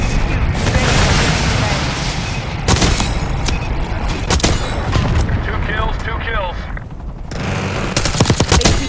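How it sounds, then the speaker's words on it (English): Hellstorm missile strikes in the multiplayer shooter Call of Duty: Black Ops 3's map Babylon give loud, close explosions mixed with bursts of machine-gun fire, sharp booms near the start and end, and game voices talking over the din. "Hellstorm missile away"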